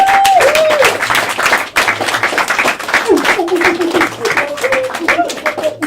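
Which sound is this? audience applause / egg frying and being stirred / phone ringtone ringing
audience applause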